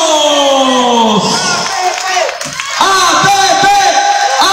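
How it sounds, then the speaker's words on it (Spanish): A crowd at a political campaign presentation cheers and whoops loudly, with broad applause swelling around the shouts, close and dense throughout. "¡Los aplausos!"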